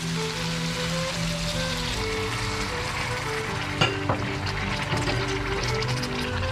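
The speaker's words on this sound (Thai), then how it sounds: "แล้วก็ผัดผัดให้เข้ากันเลยครับเพื่อน ๆผัดให้มันเดือดเข้ากันนะครับ" Curry paste stir-fried with pork and a little water in a pan for a Thai long-bean dish, a steady loud sizzle with a few sharp scrapes of the spatula partway through, over background music.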